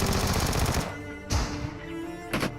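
Gunfire in the mobile battle royale game PUBG New State, loud bursts of rapid automatic shots with a dense crackling tail, then two more sharp shot clusters spaced apart, no talk.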